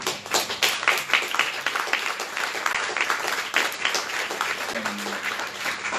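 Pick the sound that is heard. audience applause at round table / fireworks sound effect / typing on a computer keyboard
audience applause at round table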